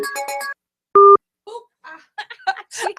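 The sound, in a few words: telephone dialing tones on an Android phone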